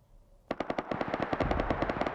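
Machine gun fire in the survival game Rust: after a near-silent start, a close, loud rapid burst of about seventeen evenly spaced shots rattles on without pause to the end.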